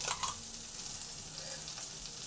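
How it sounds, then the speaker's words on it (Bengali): Spice paste of ground mustard, cumin and ginger frying in a pan, a soft steady sizzle throughout with a slightly louder burst at the start, no talking. "এটাকে 2 থেকে 3 মিনিট একটু ভালো করে কষে নেব"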